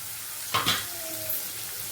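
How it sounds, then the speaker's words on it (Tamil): Green chilies sautéing with salt for a white biryani, a soft sizzle with a couple of quick spatula scrapes near the start, close and fairly quiet, no voices. "இது தேவையான உப்பையும் கொஞ்சம் போட்டுட்டு நம்ம வதக்குவோம்."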